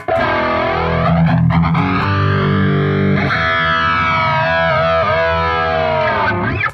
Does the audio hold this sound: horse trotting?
no